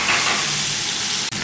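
Steady close sizzle of frying in a pan, onions or aromatics browning before bottle gourd leaves go in, continuous crackle throughout with a brief dip near the end and no talk.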